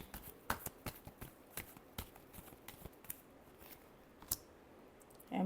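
Tarot cards being shuffled by hand, a quiet series of crisp riffling snaps and soft clicks at an irregular rhythm, close and intimate, ending with a brief louder rustle.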